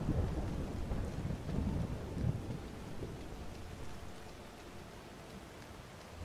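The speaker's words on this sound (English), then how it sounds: "Wish it wasn't raining" Steady rain hisses while low, rolling thunder rumbles beneath it, swelling and fading with no voices present, in the video game Skyrim Special Edition.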